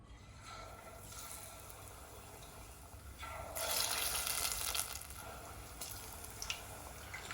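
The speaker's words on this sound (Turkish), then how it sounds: "Kızgın bir yağda kızartıyorum balıkları." Faint sizzling and crackling of fish frying in hot oil, swelling louder midway with a few pops, heard close and alone.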